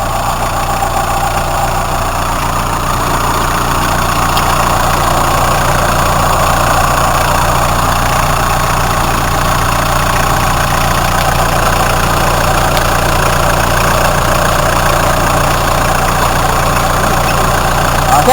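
A Hyundai Starex diesel engine idles steadily and loudly, with a constant low rumble and clatter and no talk.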